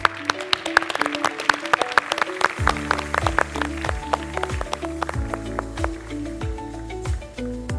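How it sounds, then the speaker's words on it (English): Audience clapping at a TEDx youth event in Cambridge, sharp individual claps at first, then fuller applause under loud rhythmic background music that enters midway and continues to the end. "please, a huge round of applause to you, our lovely audience"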